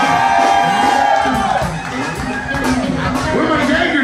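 Bar crowd at a mic club night cheering, whooping and shouting in a loud, continuous roar that dips briefly midway before swelling again.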